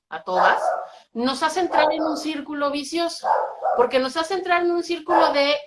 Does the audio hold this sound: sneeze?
no